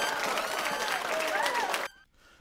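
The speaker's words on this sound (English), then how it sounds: "I'm going to give her a round of applause" A canned round-of-applause sound effect plays in a music commentary stream, bright crowd clapping with tonal streaks over it that cuts off abruptly near the end, leaving a faint tail.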